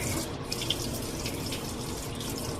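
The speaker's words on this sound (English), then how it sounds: "I'm gonna turn on some hot water." Hot water runs steadily from a tap, a continuous close splashing rush with no voices.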